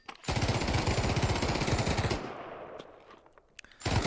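A full-auto machine gun in the Pavlov VR shooter fires a loud, rapid, continuous burst for about two seconds. The burst cuts off abruptly and a few faint mechanical clicks follow.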